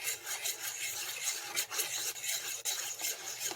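Continuous gentle rasping and rubbing of a utensil through thick pumpkin pie filling in a bowl, steady and close with no talking.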